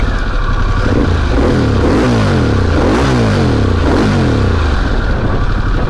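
A Harley-Davidson Pan America motorcycle engine revs near and loud, rising and falling repeatedly in pitch through several swells, alone without talk.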